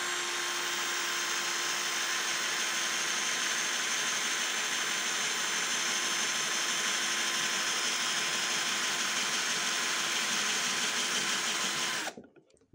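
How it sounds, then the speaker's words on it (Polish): A 12V cordless drill with a 4 mm bit boring into thin sheet metal, a steady whining motor hum held for about twelve seconds before it abruptly stops. "zobaczymy, czy za pomocą takiego 4-milimetrowego wiertła uda nam się w tej blaszce zrobić otwór"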